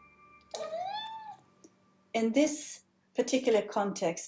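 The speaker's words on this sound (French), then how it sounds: "Et il a tendance à miauler comme ça, d'une voix très très aiguë." A pet cat meows in a very high, rising-and-falling voice, one drawn-out call followed by several shorter, chirpy meows, close and clear in a quiet room.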